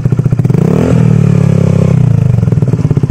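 A Suzuki Burgman Street scooter with an Akrapovic full exhaust and no silencer revs hard with a raw, unmuffled bark, rising then settling back into a rapid, throbbing idle, loud and close.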